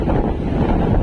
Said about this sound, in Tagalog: napakalakas po talaga ng hangin